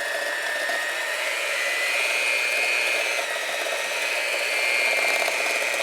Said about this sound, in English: now I'm going to mix this margarine and the sugar up